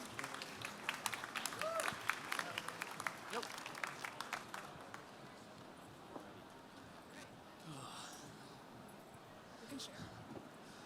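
A conference audience at a startup pitch finale claps for the finalist founders, a burst of applause that thins out and fades into a quieter room with faint murmurs.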